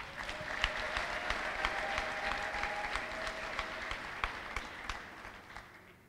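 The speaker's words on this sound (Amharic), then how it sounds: "እስኪ አጨብጭቡላት መጀመሪያ" A church congregation applauds together, a dense, steady wash of clapping at moderate distance that tapers off toward the end.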